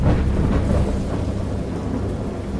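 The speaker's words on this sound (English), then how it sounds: "I heard pearls of thunder and other tones which nature utters only in her wildest moods" A thunderstorm rolls with deep, continuous thunder rumbling under a hiss of rain, loud and enveloping, with no voices.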